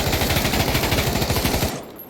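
A full magazine emptied in rapid fire in the Pavlov VR game, a fast, even burst of loud close shots that stops abruptly near the end.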